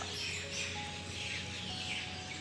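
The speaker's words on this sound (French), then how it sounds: "avec plein d'oiseaux qui chantent" Birds sing outdoors in a quiet natural spot, with scattered high chirps and trills over a steady low hum of background noise, fairly faint and continuous with no voices.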